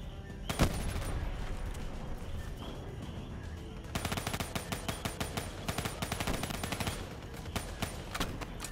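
Rapid bursts of automatic gunfire in the Call of Duty Black Ops 3 campaign, loud and dense, with a short pause before a second sustained volley of crackling shots.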